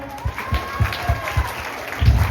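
Students clap together at a high school Teachers' Day quiz after a correct answer, giving a short burst of rhythmic group applause that swells loudly toward the end, with faint voices underneath.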